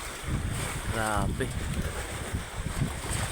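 Strong wind roars across the microphone aboard a small boat at sea in rough waves, its mast broken and tarp torn; the gusts run loud and steady throughout, and a voice briefly exclaims over the noise.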